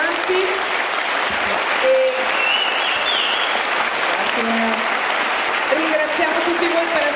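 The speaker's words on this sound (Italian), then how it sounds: "vi invito a ringraziare con un grandissimo applauso Sabina Guzzanti" Sustained, loud audience applause for Sabina Guzzanti at a debate in Brescia, dense clapping from a large crowd filling the whole stretch evenly, with faint voices underneath.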